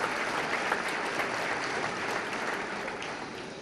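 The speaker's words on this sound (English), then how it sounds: "please give yourselves a round of applause for your incredible support with your time and your generosity today" Sustained applause from a luncheon audience at a scholarship event fills the room, a dense, steady wash of clapping holding at even loudness throughout with no voices over it.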